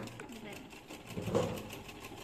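A sewing machine stitches pleats with a rapid, even mechanical rhythm, heard faintly and close beneath a person talking.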